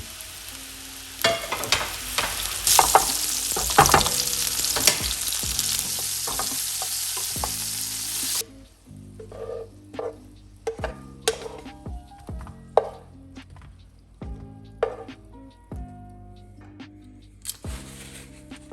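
Onions and mushrooms fry in a pan with a loud continuous sizzle for the first half, then quieter sizzling broken by rhythmic knife chopping on a board, close up and without talk.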